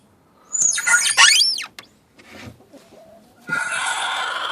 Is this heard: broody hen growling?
yes